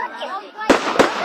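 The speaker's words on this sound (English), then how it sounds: "How many fireworks are they set up over there?" Fireworks at an outdoor display burst in two sharp, loud cracks about a third of a second apart, following a stretch of people talking nearby.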